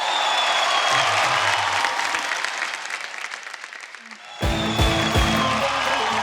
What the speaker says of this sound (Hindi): पापा जी के लिए एक बार जोरदार तालियां।